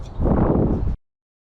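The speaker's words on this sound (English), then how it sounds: "Apologize for the wind, but that's the way it is when you're camping" A brief rumbling gust of wind buffeting the microphone outdoors at a campsite, loud and low, cutting off abruptly into silence after about a second.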